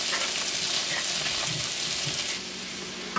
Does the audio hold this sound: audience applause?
no